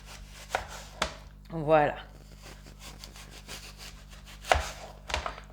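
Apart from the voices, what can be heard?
knife slicing apples into rounds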